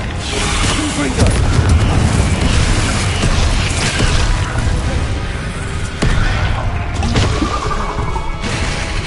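Spell blasts and crashing impacts from the Confringo fire curse in Hogwarts Legacy, loud, dense and continuous combat noise with booms layered over game music and effects.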